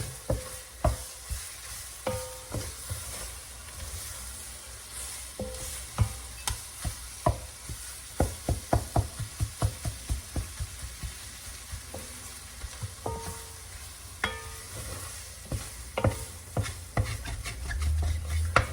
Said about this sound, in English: Make sure you scrape the bottom for any excess roux as you do this.